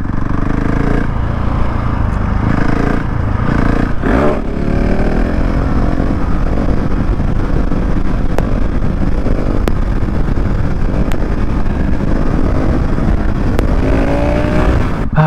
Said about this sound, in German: Machen wir nochmal ein Wheelie